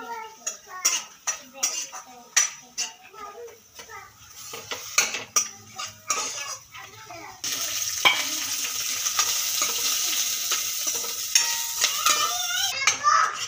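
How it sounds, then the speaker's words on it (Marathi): Chopped onion sautés in a pan for a Marathi aloo matar curry, with sharp metal scrapes and clinks of a spatula stirring, then a steady sizzle that takes over and hisses continuously to the end. "तर कांदा परतून घेतोय"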